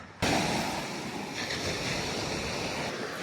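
Surf rolls steadily onto a sandy beach by a turquoise ocean as a broad, continuous wash, with wind buffeting the microphone throughout and no voices.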